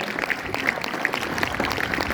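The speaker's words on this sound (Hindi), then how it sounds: "उनके लिए भी एक बार आप सभी जोरदार तालियों से उनका सम्मान करें।" Crowd at a Republic Day celebration applauding the respected teachers, steady dense clapping that stays fairly soft and even throughout.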